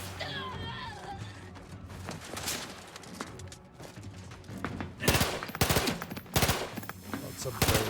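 Sharp bursts of auto pistol fire in The Outer Worlds 2, shots landing in quick clusters amid combat noise, louder and denser toward the end.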